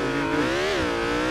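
Loud sports car engine in the BeamNG.drive driving game, revving hard with a strained, buzzing tone that dips and climbs again in one continuous close pull.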